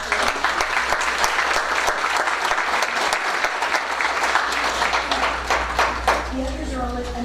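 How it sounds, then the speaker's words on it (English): Sustained applause from an audience at a board meeting congratulating students back from a competition, dense clapping running throughout, with voices talking underneath and a voice emerging near the end. "Let's give them a round of applause."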